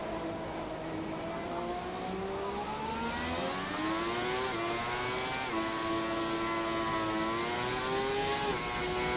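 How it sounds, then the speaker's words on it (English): A V12 Formula 1 engine in the F1 2017 racing game howls steadily at high revs, its pitch rising and dipping through gear changes, loud and continuous with no voices. "At least we get very nice V12 sounds"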